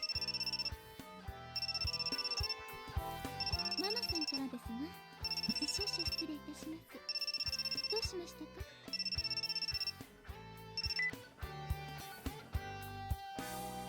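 Cell phone ringing in the visual novel Muv-Luv Photonmelodies, a repeating electronic ring tone in regular bursts over a steady game music bed, with no talk.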